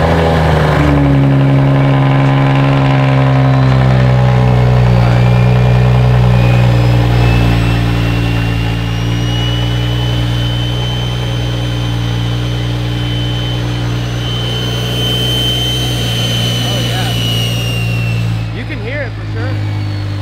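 A BMW 335i with an N55 engine and big single-turbo kit fires up for the first time, running as a loud, steady idle with a rising turbo whine held for about twenty seconds, close by, with voices in the background.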